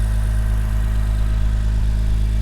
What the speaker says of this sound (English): Idle is very smooth.